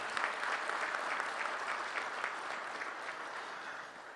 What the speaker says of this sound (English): How about a great applause to this wonderful lady?